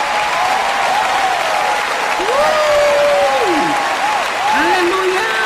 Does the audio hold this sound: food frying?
no